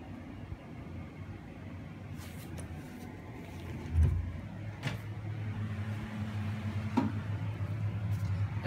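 A KDK 15WHC bathroom exhaust fan runs in a bathroom with the door shut, giving a steady low whirring hum that holds throughout, with a few faint knocks and shifts over it and no talking.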